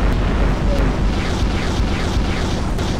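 A Davy Crockett nuclear explosion in the video game Garry's Mod, a loud sustained roaring blast that fills the whole three seconds with dense, continuous rumble and crackle.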